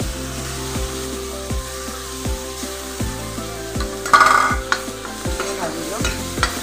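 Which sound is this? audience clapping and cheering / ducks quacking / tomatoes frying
tomatoes frying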